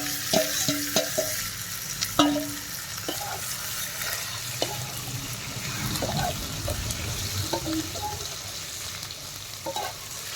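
Duck meat sizzles in a little oil in a pan with cumin-spiced marinade, a continuous crackling fry broken by sharp clinks and scrapes of stirring throughout.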